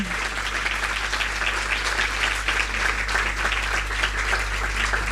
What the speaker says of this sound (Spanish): ya un aplauso para ellas